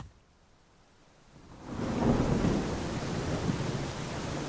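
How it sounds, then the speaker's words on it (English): Thunder in the Cafemart Simulator video game rises into a low rumbling roll after a quiet start, sustained and fairly loud with rain-like hiss. "I think we've got a thunderstorm going on out there."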